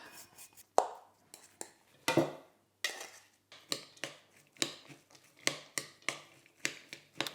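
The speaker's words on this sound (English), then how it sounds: "Now it's just a matter of mixing everything together." Meat stuffing ingredients being mixed with pepper and allspice for a Christmas recipe, giving a string of sharp clinks and taps of utensil against bowl in a steady, uneven rhythm, close and moderately quiet with no talking.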